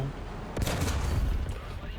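A tank cannon firing in the video game War Thunder gives one sharp, loud blast followed by a rumbling, booming decay, with a fainter second report near the end.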